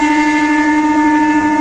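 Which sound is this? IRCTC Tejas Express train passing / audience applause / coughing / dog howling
IRCTC Tejas Express train passing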